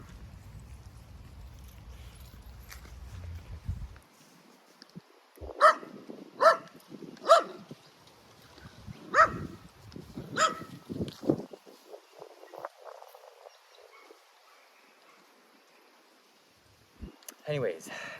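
A little wiener dog barking, a run of sharp separate yaps at irregular intervals, fairly near, with more scattered barks later and a person talking before and between them.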